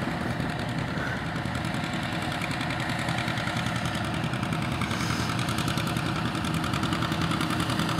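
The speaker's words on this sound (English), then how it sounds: "Todd Weber on a beautiful John Deere 50." A vintage John Deere 50 tractor engine idles with a steady, close, rumbling chug that holds an even rhythm throughout, with no voices.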